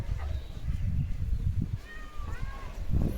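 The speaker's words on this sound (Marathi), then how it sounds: "मांजर" A house cat meows in a few soft, drawn-out calls in a rainy home yard where a German Shepherd named Leo lives, against low rumbling background noise.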